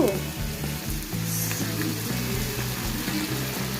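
Cabbage pakodi frying in hot oil over a medium flame, a loud, close, continuous crackling sizzle with bubbling pops throughout.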